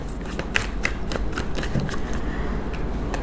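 Tarot cards being shuffled by hand, a steady close riffling and flicking of card stock with sharp snaps over about three seconds, heard alone without speech.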